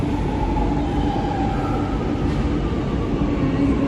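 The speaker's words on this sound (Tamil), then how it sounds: "எங்கேயோ ட்ரெயின் வருது." A Chennai metro train rumbles loudly and steadily nearby, a continuous dense roar with no pauses and no voices.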